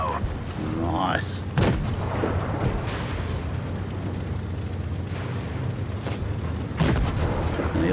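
Heavy tank cannon shots in World of Tanks Blitz, with a 50TP prototype in the match: booming blasts around 1.6 s and 6.8 s over a constant battle rumble, with excited commentary running underneath.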